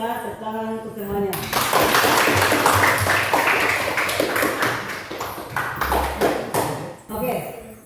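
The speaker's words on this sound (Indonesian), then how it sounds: "Tepuk tangan untuk semuanya" A classroom of students claps for everyone after group work. A teacher's voice comes first, then a burst of brisk applause with sharp individual claps that thins out toward the end.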